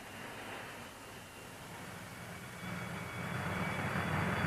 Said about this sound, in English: The steady beat from massed bombers